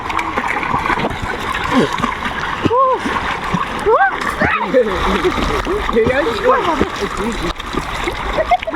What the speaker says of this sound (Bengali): দেখো বন্ধুরা সাঁতার কাটবো, দাঁড়াও তোমাদেরকে দেখাচ্ছি।